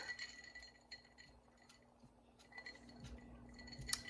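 Ice cubes clink and rattle against a glass of lemonade with chia seeds, with scattered light taps and one sharper clink near the end over a faint steady hum.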